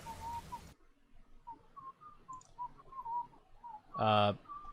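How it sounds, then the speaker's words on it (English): Someone whistling a wandering tune over an unmuted microphone during an online game session, soft and close, with a brief burst of noise at the start and a short voiced sound near the end. "Mort, I can hear you whistling."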